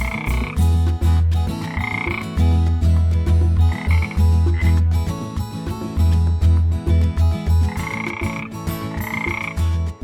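Loud, repeated frog croaks in a steady rhythmic chorus, deep pulsing calls close by with occasional higher chirps layered over them.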